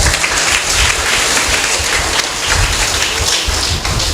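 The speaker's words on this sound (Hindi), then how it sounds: "और बजाओ ताली।" Audience applause at a Hindi religious discourse, dense steady clapping from a crowd, loud and continuous throughout.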